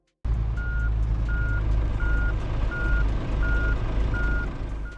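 Steady, evenly spaced reversing beeps from a truck in the mobile simulator Truckers of Europe 3 repeat over a loud idling diesel rumble, close and without speech.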